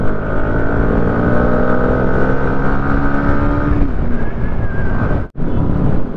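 A Kawasaki ZX10R sport motorcycle is ridden close by with a loud, steady engine drone rich in harmonics. Its pitch shifts partway through, wind buffets the microphone throughout, and there is a brief dropout near the end.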